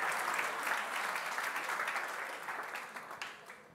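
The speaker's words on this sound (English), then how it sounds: "One more round of applause, please, for our wonderful coaching staff right here" Audience applause for the coaching staff at the Sharelle McMahon Medal 2023 awards night, a steady dense clapping that holds for several seconds and slowly thins toward the end.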